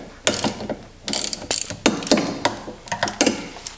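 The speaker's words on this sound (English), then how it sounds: "I'm now going to take the axles off and remove the drive shaft bolts" Close ratchet wrench clicking in several quick bursts while drive shaft bolts are removed from a BMW E36 rear end, with short pauses between the runs of clicks and no talking.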